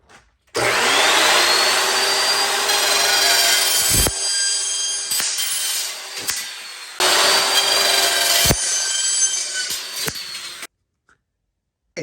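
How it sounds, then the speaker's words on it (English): A chop saw cuts a piece for an outdoor kitchen fridge kit in two loud, close passes, each a few seconds of harsh whining blade noise that ends abruptly, with brief clatter between them and quiet afterward. "make sure you have that proper cutout with the extra ½ inch of wiggle room before you go cut this at your chop saw"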